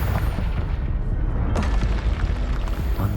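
A Confringo spell explosion in the video game Hogwarts Legacy, a loud, dense booming blast with a second burst midway, close and filling the whole clip.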